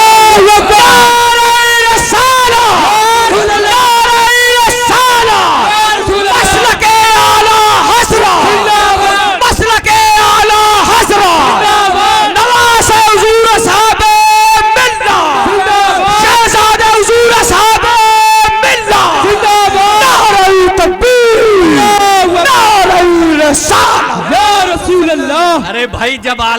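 A large religious gathering roars a chanted reply of Allahu Akbar to a takbir call, with loud, massed voices yelling in repeated waves that fill the whole stretch.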